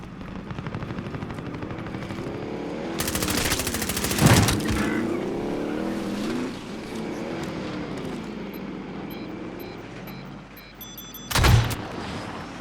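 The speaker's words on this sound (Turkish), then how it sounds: "Aa araç geliyor." Engine roar of a vehicle approaching in Call of Duty Warzone, a droning rumble that rises and falls under two sharp loud bursts of noise, with distant battle sounds around it.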